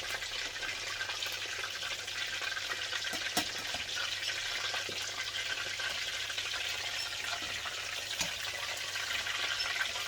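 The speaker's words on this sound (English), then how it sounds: "Just boiling the carrots in a bit of water to soften them" Carrots boil in a small amount of water in a pot on a home stove, giving a faint, steady bubbling hiss that runs on without pause and without voices.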